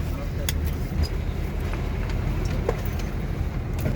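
Steady low rumble of a bus engine idling during a passenger transfer between buses on the way to Chetumal, Mexico, a constant near drone with scattered background noises and voices.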